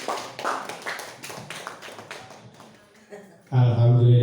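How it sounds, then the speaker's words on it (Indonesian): A room of teachers applauds a speaker at the close of a school training presentation, a burst of scattered hand clapping that fades after a few seconds before a voice begins talking. "Tepuk tangan untuk Pak Agus."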